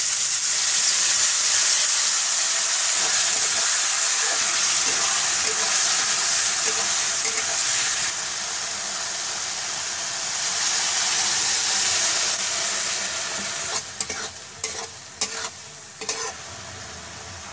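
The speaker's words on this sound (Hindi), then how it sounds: "अब डालेंगे अदरक लहसुन का पेस्ट" Ginger garlic paste frying in hot oil for aloo matar gives a loud, continuous, close sizzle and hiss that eases midway, ending with scraping stirs and spoon knocks against the pan.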